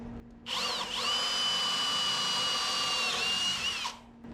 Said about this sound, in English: I'm gonna give it some nice little starter holes here.